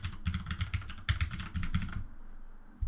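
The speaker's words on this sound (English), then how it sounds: "Type in the password." Fingers type a Wi-Fi password on a computer keyboard, a quick run of clicky keystrokes for about two seconds that stops abruptly, followed by near silence.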